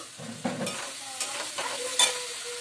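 Bottle gourd pieces go into a hot pan and cook, loud close sizzling broken by several sharp stirring scrapes and clinks, with no one speaking.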